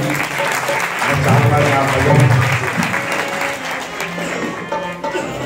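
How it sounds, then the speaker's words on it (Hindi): Applause for a music teacher, an ustad, at a Ram Katha religious gathering: a sustained wash of clapping from a large audience, fairly loud and steady, with some voices mixed in. "उनके लिए जोरदार ताली"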